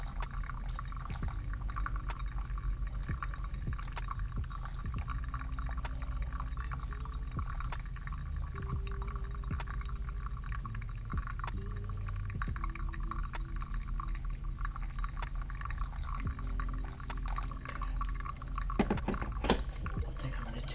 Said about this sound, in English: Now we're going to finish up filling this up to